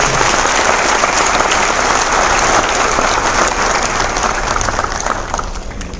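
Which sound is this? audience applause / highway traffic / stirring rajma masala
audience applause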